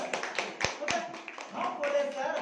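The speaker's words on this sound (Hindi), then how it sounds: "ताली बजाओ बच्चों दो दो" Children clapping their hands in a few quick, uneven claps at moderate distance, mixed with ongoing talk and background voices.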